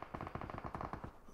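Automatic gunfire from the video game PUBG, a rapid steady burst of about a dozen shots, fairly quiet and with no talk.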